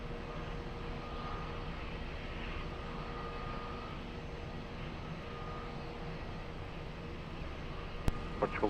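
An airplane on approach to runway 20 at Lisbon Airport produces a steady, distant engine drone with a faint tonal hum. The noise holds constant for the whole stretch, and a few sharp clicks come near the end.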